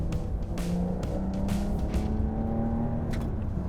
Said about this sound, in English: this is 3 laps with the 992 Carrera T